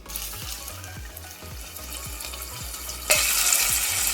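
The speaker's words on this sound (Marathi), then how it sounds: "आता दही सुद्धा परतून घेते थोडा वेळ" Yogurt sautéed into an oil-separated masala for egg biryani, a steady sizzle with a regular rhythmic stirring scrape repeating about twice a second, the frying growing louder and brighter near the end.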